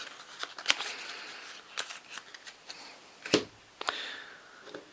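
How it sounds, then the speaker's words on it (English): Cards of the Tiny Epic Defenders board game being shuffled up close, a run of soft papery riffles and taps with a sharper flick near the middle, no talking. "They add to the horde deck, and I'll shuffle them up again."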